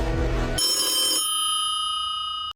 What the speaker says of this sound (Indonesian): ada suara ringtone HP berbunyi dari dalam rekaman itu